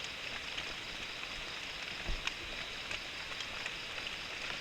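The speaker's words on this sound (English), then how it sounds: "So the rain started." Steady rain falling in the Malaysian jungle, an even hiss of drops with occasional closer individual splats, continuous throughout.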